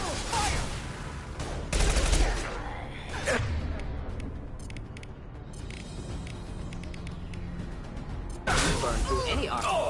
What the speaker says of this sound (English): Projectile fire!